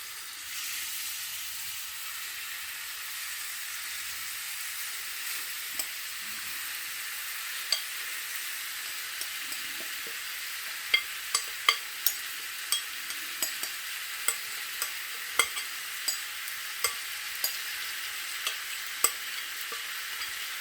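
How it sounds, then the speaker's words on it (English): Pieces of pork for Jamaican curry sizzle loudly in a pan of hot oil, giving a continuous bright hiss. The steady frying is punctuated by frequent sharp crackles and pops that grow busier toward the end. "my oil is now hot, guys, so I'm just going to put my meat straight in"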